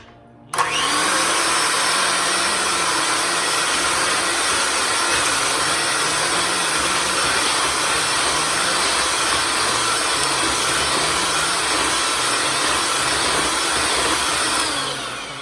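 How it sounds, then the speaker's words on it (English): An electric beater whirs loudly and steadily through cake batter with maple syrup for a vanilla Bundt cake, switching on abruptly and running nonstop at close range before tapering off at the end. "Now use a beater and mix it."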